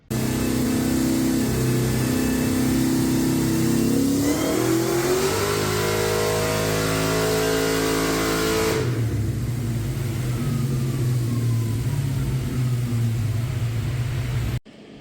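A 1970 Oldsmobile Cutlass engine revs hard on a dyno, climbing in pitch as it accelerates, holding a loud sustained roar, then dropping off sharply into a lower, rougher drone that continues until it cuts out.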